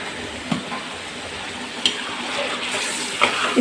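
Chicken masala fries in a pan as yogurt goes in, giving a steady hiss of sizzling with a few sharp clicks of stirring against the pan.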